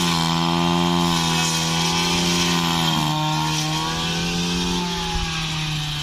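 A small two-stroke engine of a used Japanese Mitsubishi TL-20 brush cutter runs loud and steady, its pitch dipping briefly midway before settling back to a continuous high whine.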